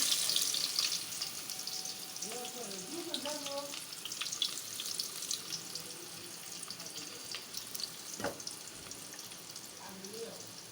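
Onions frying in oil in a pan give a faint, even sizzle, with a brief voice speaking quietly over it.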